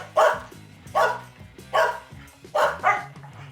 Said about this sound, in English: Their bark can also be very loud, as you can clearly hear here.